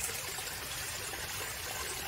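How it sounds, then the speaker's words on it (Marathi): Stream water flows in a forest clearing, a steady, close and even rushing trickle that continues alone. "वाहतं पाणी आहे"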